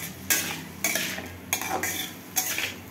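Potato and poppy-seed aloo posto is stirred and fried in a pan, with four evenly spaced scraping strokes of a utensil against the pan over a low, steady background sizzle, close and fairly loud.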